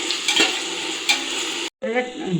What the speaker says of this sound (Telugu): ఒక 4 టమాటాలు సన్నగా కట్ చేసుకొని ఉండేది దీంట్లోకి వేసి మనం ఫ్రై చేసుకుంటాం